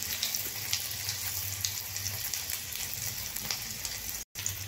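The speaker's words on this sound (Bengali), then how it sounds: "তেল আমার গরম হয়ে গেছে। এবার এখানে আমি 2টো কাঁচা লঙ্কা আর একটুখানি 5 ফোড়ন দিয়ে নিলাম।" Green chillies and panch phoron sizzle steadily in hot oil, a close, even crackle with small pops throughout.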